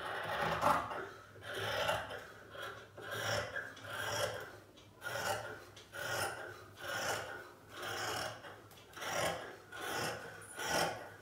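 Scissors cutting churidar fabric along marked lines, a steady series of about ten rhythmic rasping snips close by, repeating roughly once per second with no talk.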